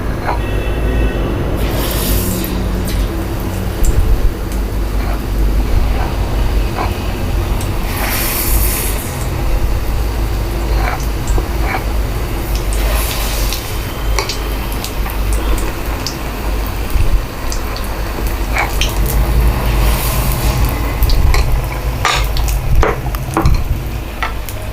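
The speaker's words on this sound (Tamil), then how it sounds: "இப்போ நம்ம டீப் ஃப்ரை பண்ணிக்கலாம்." Sweet rava bonda balls deep fry in hot oil, giving a continuous loud sizzle and bubbling hiss with scattered crackles and occasional stirring scrapes, with no talking.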